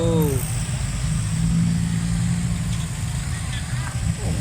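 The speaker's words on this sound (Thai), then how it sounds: "ดูรถไถคันนี้ครับ" An older 50-horsepower tractor engine, a Kubota M5000, runs with a steady low rumble throughout, with a brief higher whine at the start and faint voices in the background.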